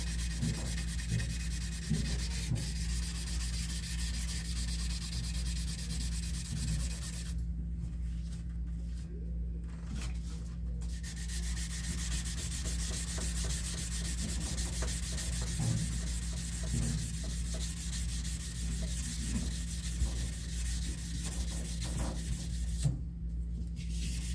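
A firearm stock is block sanded by hand, a steady rasping scrub repeating in continuous strokes over a low hum, with a few brief pauses.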